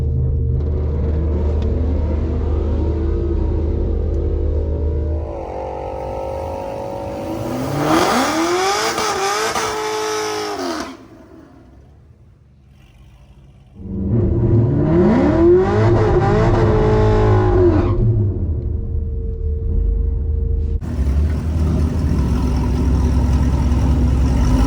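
A 6th gen Camaro drag car roars loudly on a shakedown pass at a roll racing event, engine revving up through gear changes, dropping briefly, then surging again in sustained full-throttle bursts.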